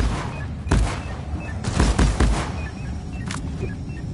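Sentry gun firing in the video game Deep Rock Galactic, several loud bursts of rapid shots in a busy combat scene, with bright electronic beeps and game sounds between them.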